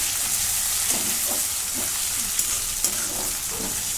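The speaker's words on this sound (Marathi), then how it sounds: "ही मुगाची डाळ टाकून घेते ही फक्त धुवून घेतलेली आहे हिला भिजायला घातलेले नाही परतून घेते" Washed, unsoaked moong dal sautéing in oil with fried garlic, a constant close sizzle with repeated soft stirring scrapes and a couple of sharper clicks from the spoon.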